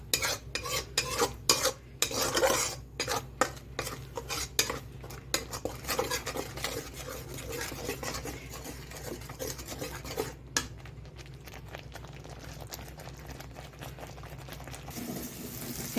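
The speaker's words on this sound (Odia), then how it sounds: "ଏବେ ଆମେ ୟାକୁ ଭଲ ଭାବରେ ପୁରା କଷିବା। ତେଲ ଛାଡ଼ିବା ପର୍ଯ୍ୟନ୍ତ ଆମେ କଷିବା।" Masala for okra curry is stirred and sautéed in a pan. A spoon scrapes and clinks rhythmically against the metal while oil sizzles underneath, busy at first and then settling into a softer, steady fry.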